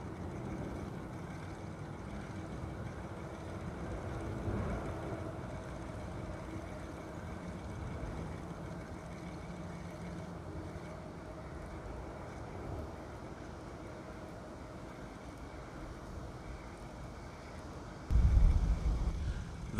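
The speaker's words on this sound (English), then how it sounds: "The wind is starting to pick up a little bit." Wind blowing steadily across open water on a kayak during a fishing outing, a continuous low rushing buffet on the microphone with a brief louder gust thump near the end; no talking.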